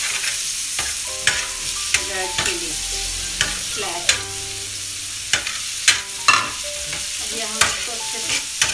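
Spiced liver frying on a flat iron tawa with constant sizzle, broken by repeated sharp metal scraping and stirring strokes at an irregular rhythm, close and loud, with no voices.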